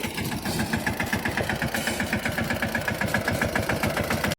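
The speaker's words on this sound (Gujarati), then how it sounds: "તો મિત્રો ફાઇનલી ટ્રેક્ટર આવી ગયું છે" A tractor engine runs steadily close by, its mid-pitched idle throbbing in a fast, even pulse with a faint knocking quality that continues throughout without any speech.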